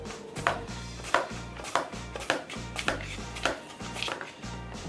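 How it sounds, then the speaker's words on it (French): Apple slices being cut thin on a mandoline with a hand guard, a steady rhythm of repeated scraping strokes each ending in a soft thud, close and alone. "et on fait des tranches"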